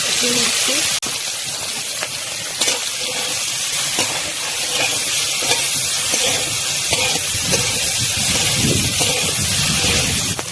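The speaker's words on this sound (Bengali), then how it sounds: "ফুলকপিটা ভাজা হয়ে গেছে" Cauliflower fries in hot oil in a kadai, a loud, steady sizzle and hiss that fills the whole stretch, broken by occasional small clinks and stirring sounds.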